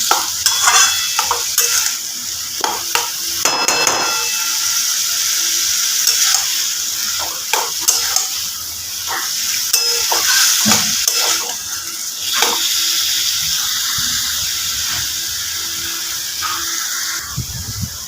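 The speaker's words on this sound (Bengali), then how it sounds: "মোচাটা খুব ভালোভাবে নেড়ে মিশিয়ে নিয়েছি জলও শুকিয়ে গেছে" Banana flower curry stirred in a pan as its water dries off: loud continuous sizzling with frequent scraping and clattering of a spatula against metal, close by, no voices.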